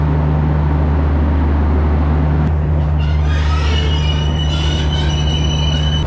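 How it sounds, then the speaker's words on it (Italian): An old train runs on rails with a loud steady rumble and low drone, then its wheels break into high metallic squeals partway through, close and prominent. "Vecchiotti i treni, sembrano quelli della mia città sempre."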